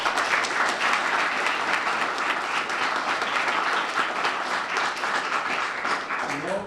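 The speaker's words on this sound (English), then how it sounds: "We all deserve a round of applause for everyone here" Sustained applause from a large crowd at a county bill-signing ceremony, dense and steady, filling the room without pause for several seconds.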